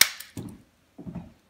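A cork comes out of a 1991 Silverado Cabernet bottle from Stag's Leap with one quick, sharp pop, followed by two soft, low rustling handling sounds, close and fairly quiet.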